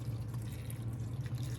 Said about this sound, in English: what I'll do now is just give him a bit of a water, not much